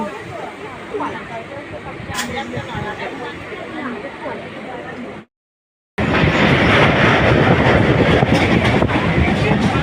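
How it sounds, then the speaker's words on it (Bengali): A local train rumbles into Sheoraphuli station, a steady loud clatter of wheels and carriages with a short cut in the middle, then louder rolling noise with faint chatter from passengers. "ট্রেন এখন শেওড়াফুলি ঢুকছে"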